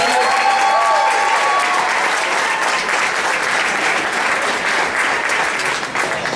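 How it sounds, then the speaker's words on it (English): Sustained applause from a crowd, steady and loud throughout, with a few brief tonal whistles or squeaks early on and no talking. "Can we give him another round of applause?"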